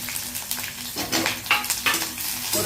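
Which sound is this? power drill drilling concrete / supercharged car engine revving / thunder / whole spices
whole spices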